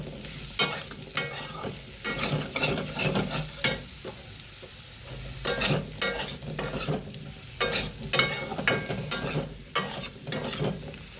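Chili powder being stirred through a frying mixture in a pan for a soybean vegetable curry: repeated bursts of spatula scraping over a steady sizzle, close and fairly loud, with no voices.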